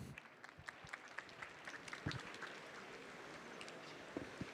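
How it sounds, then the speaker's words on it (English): Scattered applause from an audience at a food and agriculture startup pitch session, quiet and fairly sparse, with separate claps ticking over a soft background murmur. "Please give a round of applause for Yopla."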